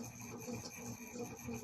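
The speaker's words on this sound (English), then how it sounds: "I'm gonna go ahead and trim some of the felt off now" Scissors trim felt during a beltane craft project, giving a steady, close, quiet rubbing and rasping snip texture that continues throughout without any speech.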